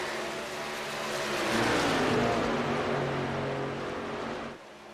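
Race truck engines in a sim racing league event at Michigan, a loud continuous roar that swells as trucks pass close, then drops off abruptly near the end.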